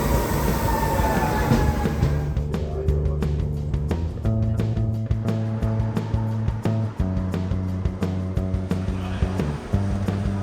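A train in Finland, heading to the airport, rolls along with rumbling wheels, steady low tones and repeated sharp clicks from the track, loud and close as if from inside a carriage.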